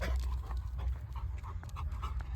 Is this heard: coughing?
no